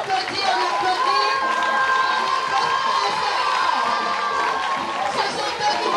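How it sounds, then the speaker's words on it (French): A crowd cheers and claps at an NGO activities launch event in Cocody, a dense, steady wash of voices, shouts and hand noise that holds loud and close throughout. "On applaudit, on applaudit, on applaudit."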